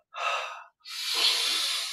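Two airy breaths close to the microphone during a Kriya Yoga breathing exercise, a short one followed by a longer, steady deep inhale, with no voice.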